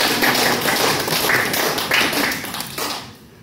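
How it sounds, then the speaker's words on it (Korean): A congregation at a church retreat claps together in a steady, dense burst of applause that fills the room for about three seconds before tapering off. "우리 박수 한번 쳐야 돼요"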